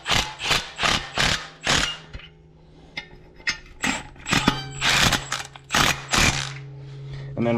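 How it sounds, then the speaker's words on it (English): A Milwaukee power tool tightens clutch bolts on a Polaris RZR Turbo R during an IBEXX clutch install, with repeated short bursts of whirring and clattering impacts separated by brief pauses and metallic clinks. "get the Milwaukee out and tighten it up that way"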